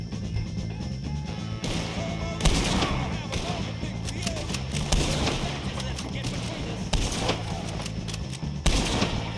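Dense gunfire from the Red Dead Redemption 2 video game, with repeated rifle and pistol shots in irregular bursts during a shootout with O'Driscoll gang members. Loud and close, with shouted voices mixed into the chaos.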